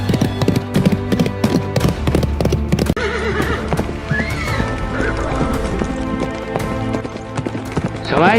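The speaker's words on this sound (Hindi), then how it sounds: "सवाई भोज अपना घोड़ा राव जी के हाथी के सामने ले जाकर राव जी के ऊपर तलवार से हमला करते हैं" Horses galloping into battle, with dense clip-clop hoofbeats, neighing and whinnying over a loud, busy battle din that runs steadily throughout.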